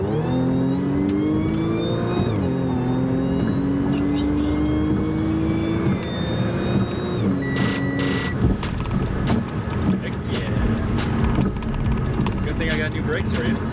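An Audi B8.5 S4 with a DSG tune accelerates hard with rising engine pitch and audible gear changes, loud and close from inside the car, with people talking over it.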